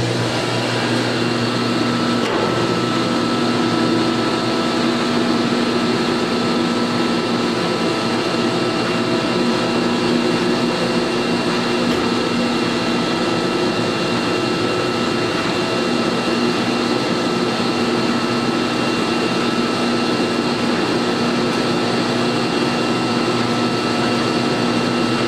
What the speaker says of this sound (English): it's a really quiet running grinder, as to be expected from Weima